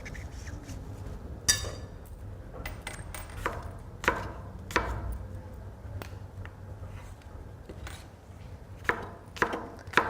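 A knife chops apples on a cutting surface with a series of irregular, sharp strikes, some louder than others, over a steady low kitchen hum.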